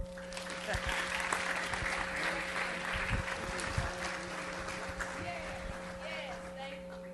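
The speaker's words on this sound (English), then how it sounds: "Let's give all of our winners one more round of applause." An audience at a board meeting applauds scholarship winners steadily throughout, a dense wash of clapping from a large crowd with a few louder claps near the front.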